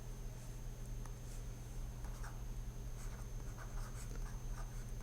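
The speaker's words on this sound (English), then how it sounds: "So I am writing," Pen writing on paper during a maths lesson, with scattered light scratching strokes and taps over a steady low electrical hum.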